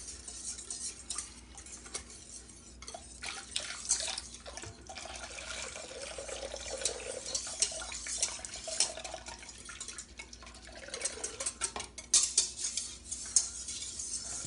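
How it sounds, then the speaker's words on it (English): A spoon stirs and scrapes through a bowl of yeast and warm water for white bread dough, with soft irregular clinks and sloshes, quiet and close, with no one talking. "We get it stirred up, mixed up nicely"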